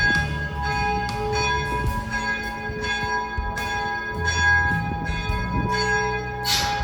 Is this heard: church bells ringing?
yes